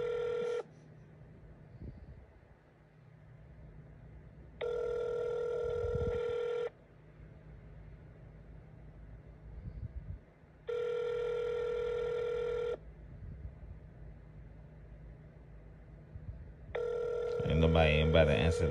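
A telephone line rings repeatedly and goes unanswered, with bursts of ringing tone alternating with quieter gaps in a steady cycle over a low background murmur.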